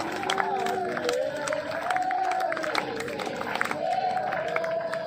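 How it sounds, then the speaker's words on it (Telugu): An audience at a Christian gathering claps along in a steady rhythm under singing and voices, with a lively crowd bustle throughout. "చప్పట్లు కూడా కొడితే బాగుంటుంది."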